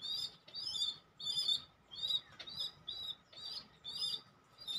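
Native red bar pigeons and their newly hatched young in a loft give rapid, high, squeaky chirping calls, repeated in regular bursts about twice a second, close and moderately quiet.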